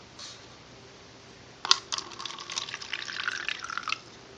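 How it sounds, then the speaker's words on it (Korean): Water pours into a container in a short, close trickle after a single initial clink, splashing unevenly for a few seconds in a quiet room. "먼저 이런 통에 물을 부어주세요."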